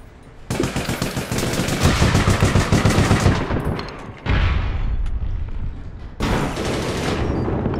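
Loud light machine gun fire in the APB Reloaded video game: long sustained automatic bursts ripping close and dense, broken by short pauses between three separate volleys.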